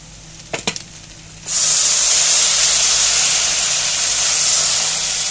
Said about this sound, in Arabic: اول ما يحمر معانا هنطفيه بايه، بالخل